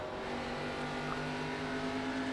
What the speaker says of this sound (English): listen to that throttle. Listen to his engine.